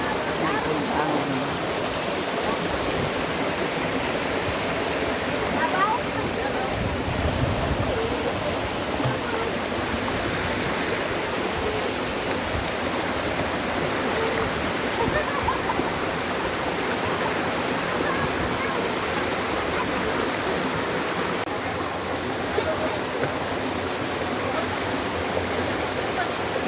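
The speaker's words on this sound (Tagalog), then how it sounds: "We are now at the Bambi Falls." Bambi Falls in the Philippines pours with a continuous, full rushing roar of falling water that stays steady and close throughout, with no break.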